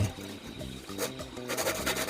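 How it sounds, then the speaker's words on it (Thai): Hand saw cutting through wood for a homemade speargun stock, a steady rasping back-and-forth stroke close by, loud and continuous without talk. "ถ้าเราเจาะนำเราจะเลื่อยง่าย"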